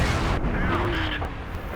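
Enemy tank fire striking the player's tank in a World of Tanks style battle with the FCM 50 t, a dense, sustained blast and rumble lasting under two seconds, loud and close with no talk.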